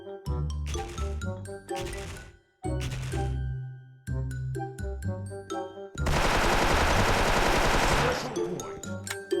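Rapid bursts of gunfire from an X-MAS M4A1-S carbine in a video game, loud and sustained, with bell-like jingles ringing through the shots and a dense final volley.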